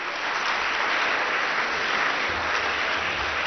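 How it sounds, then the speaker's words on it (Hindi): Audience applause at a Republic Day ceremony at Acharyakulam school in Haridwar, a dense, steady wash of clapping from a large crowd of children that holds loud and even throughout. "जोरदार तालियां बजाओ इसके लिए"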